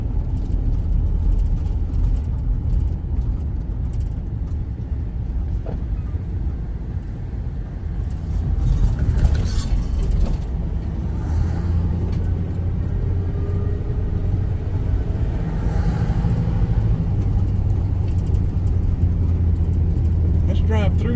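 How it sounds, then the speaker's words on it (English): A car drives through the small Georgia town of Swainsboro, its engine and road noise a loud, steady interior rumble throughout, with someone talking over it. "Let's drive through town,"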